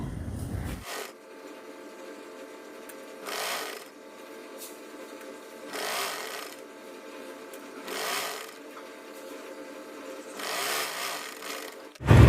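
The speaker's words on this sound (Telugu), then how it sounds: "ఇప్పుడు దీన్ని ఈ విధంగా ఫోల్డ్ చేసేసి పైన కుట్టి వేసుకొచ్చేద్దాం" A sewing machine stitches along a folded dress sleeve in a quiet hum. Several louder whirring runs rise and fall between short pauses.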